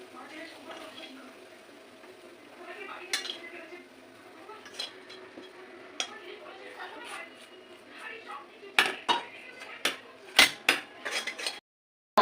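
Carrot halwa is eased out of a cooking pan into a serving dish, with scraping and clinking of a spoon against metal that grows sharper near the end over a low kitchen background.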